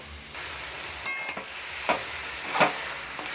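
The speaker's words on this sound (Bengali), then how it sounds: "এবার ভালোভাবে মিক্স করে নিচ্ছি মশলার সাথে।" Pasta tossed with spices, soy sauce and tomato sauce in a hot pan, a soft steady sizzle punctuated by several crisp spatula scrapes and stirs at close range.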